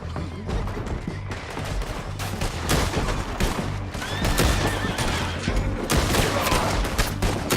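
Dense, close gunfire crackles almost without pause during a shootout in the Red Dead Redemption 2 video game, overlapping shots layered over a rumbling background, with a horse whinnying faintly in the mix.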